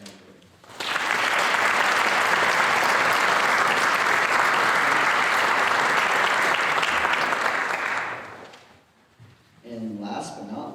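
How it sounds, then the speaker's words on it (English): Audience at a youth awards ceremony applauds a nominee for civic community service: steady, dense clapping for about eight seconds that fades out, then a voice begins speaking. "Please join me in applauding Ava Both for being nominated in the Civic Community Service category."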